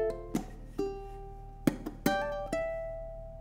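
Ukulele plucked and strummed alone in a lesson setting, playing bar 2 of a song: a few sharp attacks with ringing, sustained notes between them, close and clear.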